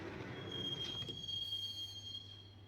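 A train rolls toward a station in the video game Max Payne: a faint, steady rumble of wheels on rails under a thin, high metallic squeal, no talk.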